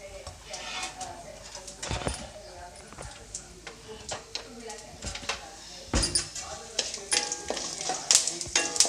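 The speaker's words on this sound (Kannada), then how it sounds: "ಗೋಡಂಬಿ ಹಾಕಿದ್ದೀನಿ ಈಗ ಇದನ್ನು ಚೆನ್ನಾಗಿ ಫ್ರೈ ಮಾಡಬೇಕು" Cashew nuts frying in a pan for khara pongal, with crackling sizzle, scraping stirs and sharp pops growing busier toward the end, under a voice speaking.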